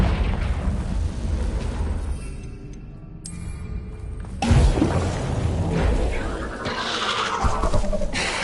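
A Confringo fire spell explodes in Hogwarts Legacy, with rumbling magical blasts and a strong boom at mid-clip followed by crackling bursts, loud and close.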